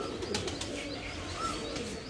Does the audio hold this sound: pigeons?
yes